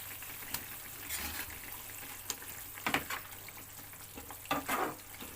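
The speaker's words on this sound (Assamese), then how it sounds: "এতিয়া আমি মাছৰ পিচটো ইয়াত দি দিম।" A piece of rupchanda (pomfret) fish goes into a bubbling curry of lai and palong greens, giving a soft splash or two over a steady low simmer.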